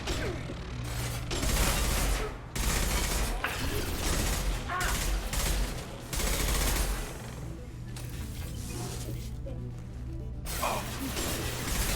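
Gunfire in Mass Effect 2 combat, with rapid bursts of shots and mechanical clatter repeating over twelve seconds, loud and busy throughout.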